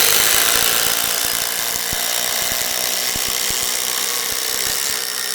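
Ryobi ONE+ HP impact driver driving into a piece of wood, a steady loud whirring and hammering rattle that runs without a break, close up.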